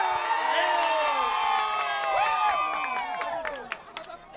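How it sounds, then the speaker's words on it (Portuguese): Football fans at a Chapadinhense championship quarter-final between América and Olaria cheer and shout in a dense, excited crowd roar with many overlapping whoops and voices, loud throughout and easing slightly toward the end. "que legal ver essa torcida participando, vibrando muito"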